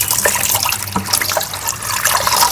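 Water running steadily from a household tap into a container, a continuous close splashing rush with no voices over it.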